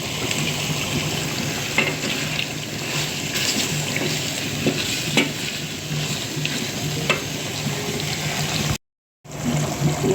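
Fish curry cooking in a pan gives a steady, close sizzle and frying hiss with occasional stirring scrapes throughout, broken by a brief silent gap near the end.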